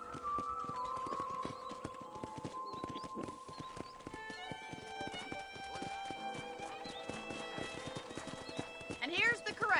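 Steady clip-clop of horse hooves with a horse whinnying at a ranch corral in the video game Red Dead Redemption, layered over tonal game music and chimes; busy and fairly loud throughout.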